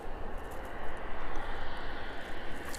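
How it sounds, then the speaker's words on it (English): A Jet2 airliner on an airport apron sends out a steady, broad engine roar, continuous and fairly loud at moderate distance, with no voices. "the registration on that outbound aircraft"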